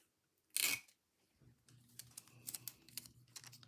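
Tape is pulled from a roll in one sharp ripping burst, then pressed down onto a paper craft folio with soft, scattered crinkles and taps.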